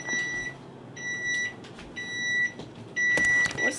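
Repeated electronic beeping at an outdoor Sunday market, short steady tones sounding in a regular on-off pattern about once per second, close and fairly loud over background bustle.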